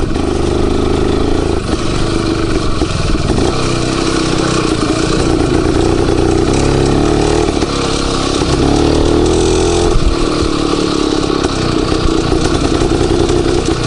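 An Izh Planeta 4 motorcycle with a sidecar runs close and loud, its engine chugging steadily at idle with slight rises in revs throughout, no voices over it.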